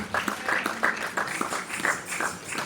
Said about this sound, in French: On acclame très fort le Seigneur, nous acclamons.